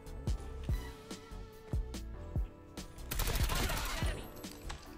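Gunfire in the Call of Duty Mobile video game: a run of sharp single shots, then a dense burst of rapid automatic fire, with some voice talking over it.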